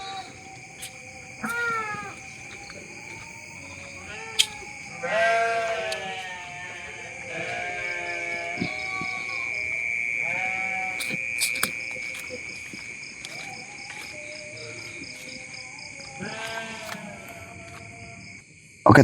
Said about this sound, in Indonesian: Ini juga ada kandang kambing ini karena dekat juga sama perkampungan ini.